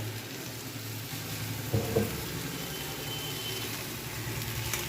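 Cauliflower and paneer curry is stirred in a pan after salting: a soft, steady sizzle with a short utensil clatter and scrape partway through, heard close and quiet with no talking.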